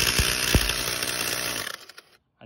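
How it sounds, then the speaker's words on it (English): A worn-out Ryobi battery-powered inflator runs with a steady, harsh motor drone and rattle, close and loud, then winds down and cuts off near the end. "This is the Ryobi power inflator because I have a ton of their batteries."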